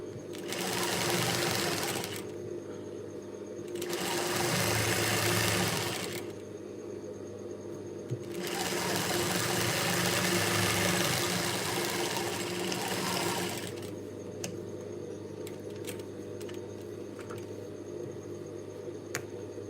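A sewing machine stitches the seams of a top in three close, loud runs of rapid whirring, each lasting a couple of seconds, separated by quieter pauses and followed by a calmer stretch with small clicks.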